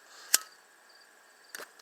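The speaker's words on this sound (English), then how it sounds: "That's the sound of me lighting my cigarette." A sharp click of a lighter's spark lighting a cigarette, followed a moment later by a softer second flick, quiet and close.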